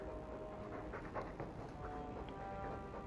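A dog pants in Dragon Age 2 with quick, soft, rhythmic breaths over a low game background, fairly quiet and with no talk.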